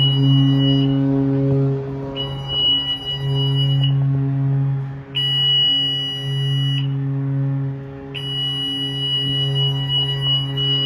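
A loud electronic cruise ship cabin alarm sounds in repeating pulses during an emergency drill, a low buzzing tone layered with a high shrill beep that switches on and off in a steady cycle.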